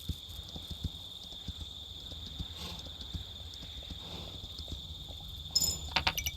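A horse moves along in the video game Kingdom Two Crowns, its hooves clopping in a steady rhythm over a constant high-pitched ambient tone, with a brief sharper burst of sound near the end.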